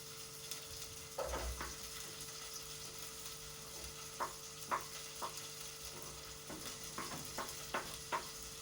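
Onions hit well-heated cooking oil in a pan and fry with a soft, steady sizzle, punctuated by scattered clicks and light taps of a stirring utensil, fairly quiet and without speech.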